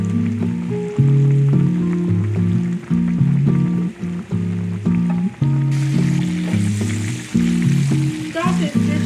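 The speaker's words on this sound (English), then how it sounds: "So I'm just frying this fish until it's golden brown" Fish sizzles steadily in hot oil beneath a looping melodic music track, the crackling hiss growing brighter and louder partway through.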